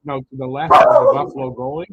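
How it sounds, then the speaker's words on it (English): A dog barks loudly in a home during a live hockey prospects game broadcast, a burst of yips layered over steady talk from a man calling the action. "don't bark, please"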